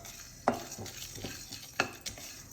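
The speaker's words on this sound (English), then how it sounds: "Fry this patiently in low medium flame." Fenugreek seeds fry in a pan over a low-medium flame, a soft, quiet sizzle broken by a few sharp spatula scrapes and taps against the pan.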